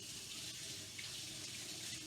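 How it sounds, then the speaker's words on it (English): Water runs steadily from a kitchen tap as hands are rinsed under it, a continuous soft splashing rush with no voices. "I'll have to rinse my hands again."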